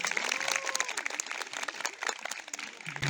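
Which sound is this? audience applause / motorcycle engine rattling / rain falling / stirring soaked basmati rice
audience applause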